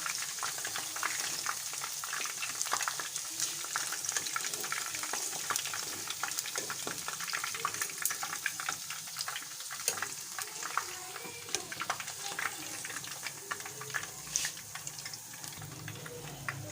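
Chicken pieces for chicken dabu fry steadily in a pan over a low flame, giving a continuous close, dense crackling sizzle with no voices.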